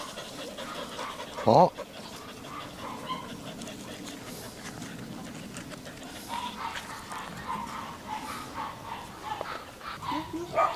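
White fluffy Bac Ha dogs panting steadily and giving an occasional short yip while playing, close by, with a person talking over them.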